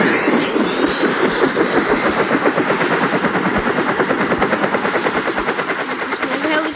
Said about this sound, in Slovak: A helikoptéra, vedel som to.